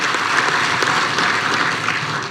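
Audience applause at an Indonesian political speech by the Perindo party chair, a dense, steady crowd clapping that stays loud and even throughout, with no voices over it.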